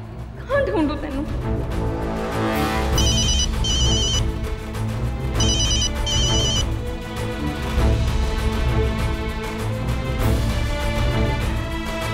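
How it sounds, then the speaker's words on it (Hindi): A telephone rings with repeated bursts of a bright electronic ringtone in a drama scene, the rings arriving in pairs over a background music score, with no talking. "बलदेव फोन उठा ले, कहाँ ढूंढूं तेनू?"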